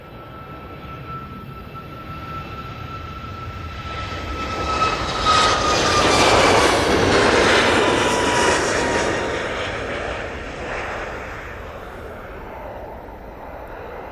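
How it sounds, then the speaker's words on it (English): A Boeing 737 MAX jet departing Manchester Airport for Faro builds from a distant whine into a broad roaring peak midway, then gradually fades as it climbs away, with nobody speaking. "Right now, 737 MAX."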